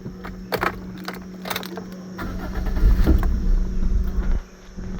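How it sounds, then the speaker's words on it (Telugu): A 2011 Toyota Etios G petrol car cranks and fires up on a single turn of the key, with keys jangling, then settles into a steady idle close by. "ఈ కారు సింగిల్ సెల్ఫ్లో స్టార్ట్ అవుతుందా లేదా అన్నది చూపిస్తున్నాను"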